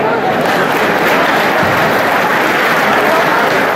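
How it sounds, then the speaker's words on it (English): Audience applause fills the hall at a youth hockey tournament's opening ceremony in Philadelphia, a loud, dense and steady wash of clapping that holds evenly from start to finish. "Give a big round of applause to our panel"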